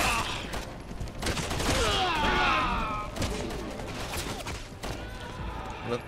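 Enemy gunfire in Resident Evil 6, several sharp bursts and cracks scattered through the clip, mixed with impacts and game noise, while a person talks over it.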